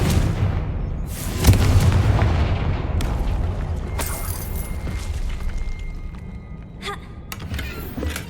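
A Confringo blasting spell in Hogwarts Legacy sets off booming explosions, a loud impact followed by several sharp blasts and crackling debris over a rumbling tail.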